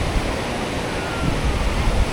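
Sea waves wash steadily onto a beach on the Konkan coast at Malvan, a broad continuous surf roar with no distinct breaks, fairly loud and alone.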